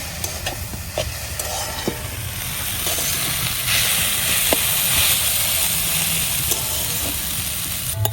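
Potatoes fry in a hot pan until reddish, with cardamom and bay leaves ready alongside, producing a loud, continuous close sizzle and hiss marked by a few sharp stirring clicks.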